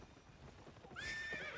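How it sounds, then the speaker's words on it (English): Horse summoned in Albion Online: a faint rustle, then a clear whinny followed by a few quick hoof clip-clops, short and close. "Bring out my horse."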